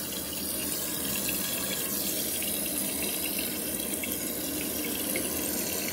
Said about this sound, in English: so I'm gonna add water there.